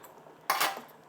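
A spoon stirs pasta in a pot on a home stovetop, giving a short, close burst of scraping and clinking against the metal that lasts about half a second before fading.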